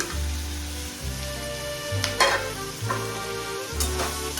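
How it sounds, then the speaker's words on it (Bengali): Chicken with capsicum and tomato being stir-fried in a pan gives a steady close sizzle with repeated scraping stirs, alone with no talk. "সবগুলোকে একসাথে এখন একটু ফ্রাই করে নিচ্ছি।"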